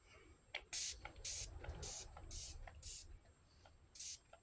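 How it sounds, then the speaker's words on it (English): A bottle of Ulta Beauty Moisturizing Primer Spray fires a series of short hissing mists, roughly evenly spaced, close by over a quiet background. "This Ulta Beauty Moisturizing Primer Spray."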